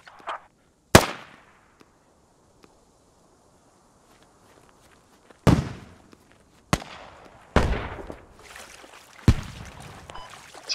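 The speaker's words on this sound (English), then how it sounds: "Sounds like we got a rocket shooter at 245 from us" Rocket launcher shots in the tactical shooter Squad ring out as several sharp, loud blasts with decaying tails, spaced irregularly over an otherwise quiet stretch.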